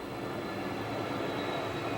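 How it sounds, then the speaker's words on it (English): A train passing near a house, a steady low rumble with continuous broadband noise that holds evenly for the whole stretch without voices. "I could hear this train noise right now"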